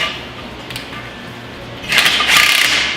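A Tapcon concrete bolt is driven with a 6-point socket, giving a quiet mechanical whir that swells into a louder grinding, ratcheting rasp for the final second, close to the listener.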